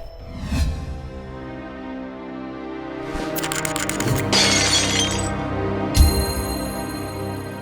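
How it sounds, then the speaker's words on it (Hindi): A cherished heirloom in a cartoon comedy shatters, a loud glassy crash scattering into bright tinkling fragments and ringing shards over a few seconds, with a final thud and lingering chime, no speech. "अरे रे, मेरे दादाजी की दी हुई प्यारी चीज टूट गई।"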